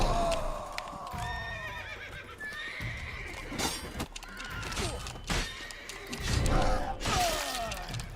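Horses in The Witcher 3: Wild Hunt give loud, shrill neighs and whinnies over clattering hooves, with sharp crashing bursts between them, close and busy across the whole stretch.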